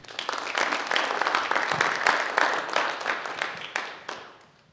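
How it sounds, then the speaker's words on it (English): An audience gives a round of applause at a school district capital plan meeting, a dense burst of clapping that swells, holds for a few seconds, then tapers off near the end. "how about a round of applause for Dan?"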